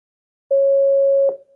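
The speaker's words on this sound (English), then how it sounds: "those three sine waves combine to make this pattern" Three combined sine waves form a single steady electronic tone, about three-quarters of a second long, starting and stopping abruptly with a click at the end.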